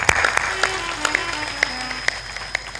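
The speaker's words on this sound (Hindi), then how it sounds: "ताली बजा दो।" An audience at a devotional discourse claps, a ragged burst of many hands at moderate distance with sharp individual slaps, mixed with background music tones and no clear talk.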